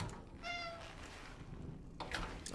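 A cat meows in the video game Cronos: The New Dawn, one clear drawn-out meow with bright harmonics, then a brief second call, over a steady low ambient hum.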